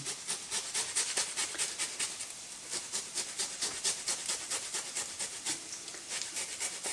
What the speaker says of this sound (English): And again with the lemongrass, we can just use the microplane